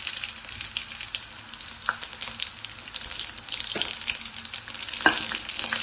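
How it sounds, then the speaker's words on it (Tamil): Garlic and mustard seeds frying in hot oil for an okra stir-fry, giving a steady close sizzle with scattered sharp pops and splutters, a few louder crackles standing out, no voices. "பூண்டு பொரியட்டும். கூடவே கடுகு கொஞ்சம் போட்டுக்கலாம்."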